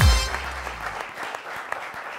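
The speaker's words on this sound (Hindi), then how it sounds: "बहुत तालियाँ बहुत तालियाँ" Burst of applause from a television studio audience, loud at the start and quickly fading to scattered claps.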